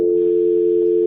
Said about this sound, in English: You probably hear the dial tone now